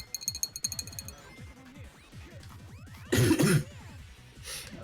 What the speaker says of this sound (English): Some good coughing ASMR